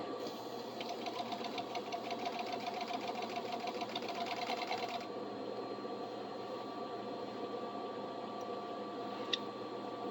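A serger sewing machine runs steadily with a fast, even stitching rattle for about five seconds, then stops, leaving quiet room noise.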